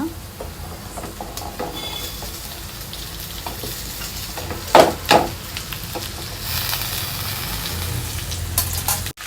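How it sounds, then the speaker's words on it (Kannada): Cut okra frying with well-fried onions in a pan, giving a loud continuous sizzle with a couple of sharp stirring clatters midway and a brief surge of hissing near the end, with no talking. "ಕಟ್ ಮಾಡ್ಕೊಂಡಿರೋ ಬೆಂಡೆಕಾಯಿ ಹಾಕ್ಕೊಳ್ಳೋಣ"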